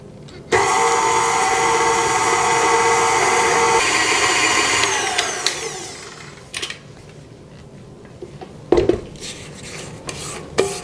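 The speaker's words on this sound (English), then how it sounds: "I'm going to mix this until the butter and sugar are well creamed." An electric mixer creams butter, sugar and vanilla for shortbread, a loud steady whirring hum that fades out after about six seconds, followed by a few scraping knocks against the bowl.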